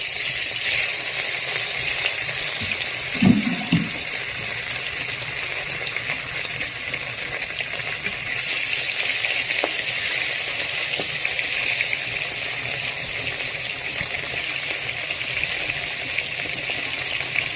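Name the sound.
fish frying in hot oil in a wok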